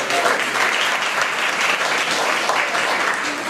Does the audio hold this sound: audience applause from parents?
yes